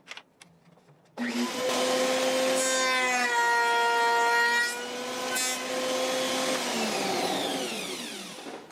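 A Festool power saw cuts the other side of a wooden cabinet stile. After a brief click, the motor spins up into a loud, steady whine that shifts pitch slightly, then winds down at the end, with no voices.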